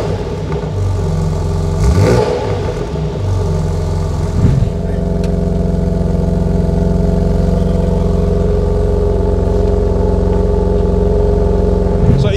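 A BMW G80 M3 with a loud aftermarket exhaust idles warm after a cold start, its deep steady burble close and constant, with a brief blip and shift in tone early before settling into a smooth idle.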